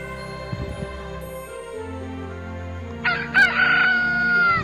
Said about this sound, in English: मुर्गा, rooster